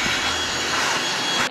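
Shop vacuum plugged into a garage wall outlet, running with a steady, loud broadband whoosh and whine for under two seconds, cutting off briefly at the end.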